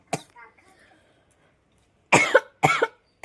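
A small boy coughs in a home kitchen where biryani is being cooked: one short cough near the start, then two loud, close, harsh bursts later on, with a quiet gap between them.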